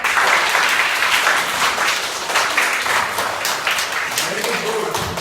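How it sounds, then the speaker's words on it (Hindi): Children applaud together at a library gathering, a dense burst of clapping that holds steady for several seconds before thinning slightly. "इनके लिए भी जोरदार ताली बजाओ।"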